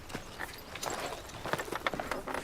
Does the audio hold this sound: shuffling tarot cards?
no